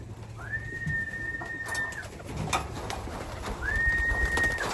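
Racing pigeons at a loft during feeding, with a steady murmur of close cooing and feed rattling, broken by two long thin whistle-like tones.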